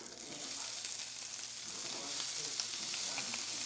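Lots of onions sizzle in a little butter in a pan on a stovetop, giving a continuous, dense crackling hiss. The sound is close and steady, with small pops scattered throughout.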